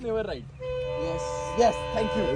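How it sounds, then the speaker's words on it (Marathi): Long, loud two-tone blast of an Indian Railways train horn, held steady and close, with a voice speaking over it toward the end. "ट्रेन येते ना. Indian railway."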